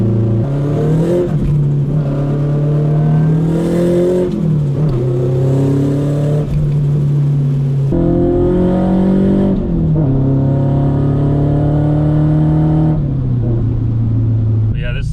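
A Nissan Silvia S14 engine drones loudly and close while drifting, its pitch climbing and dropping repeatedly through sustained revs, with a few sharp shifts in tone.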